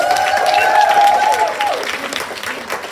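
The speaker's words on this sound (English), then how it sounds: "Clap it up for Lars" Audience applauds as a panelist joins the stage at a work-family policy event, a steady moderate patter under a sustained whistle-like tone that glides downward.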